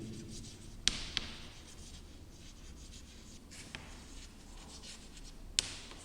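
Pen writing by hand on paper while solving a maths problem, a faint continuous scratching broken by a few sharp taps, close and quiet with no talking.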